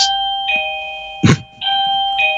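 A doorbell chimes in repeated ding-dong tones, loud and close, with a brief knock-like thump in the middle and no talk over it.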